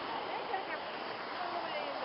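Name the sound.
ocean waves washing up on a beach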